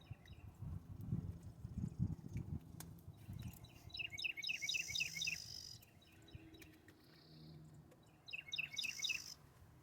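Small birds chirp outdoors on a mild spring-like day, with bursts of quick repeated tweets and calls over a low rumbling background, pausing midway before a final burst.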